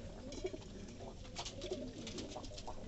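Pigeons coo softly in sweltering summer heat, a faint series of low repeated coos overlapping one another at a moderate distance with no talking.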